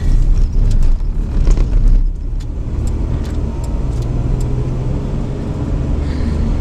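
A car pulling out quickly from a lot onto a road in front of other traffic, heard from inside as a close, loud engine rumble that surges at first, then settles into a steady hum, with no talking.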